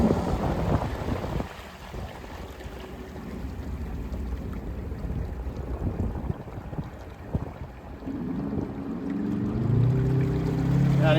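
A small boat moves under a TEMO 1000 electric outboard motor. Steady water and wind rush are heard close up, and a faint rising motor whine comes in near the end.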